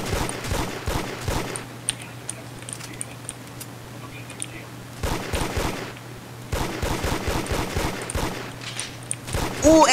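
Gunfire in the video game Jim's Computer 2, with clusters of rapid, sharp shots in short bursts separated by quieter pauses carrying a low steady hum and scattered clicks.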